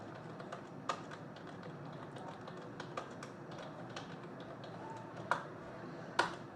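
Computer keyboard keys tapped while entering ledger details in Tally ERP.9 accounting software, sparse clicks with a few sharper keystrokes over a steady background hiss, close and fairly quiet.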